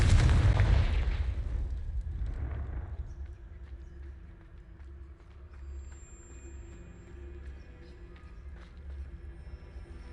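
A Confringo fire-spell blast in Hogwarts Legacy near a Thestral nest: one loud, close explosive burst that fades over a couple of seconds into a low, steady ambient rumble.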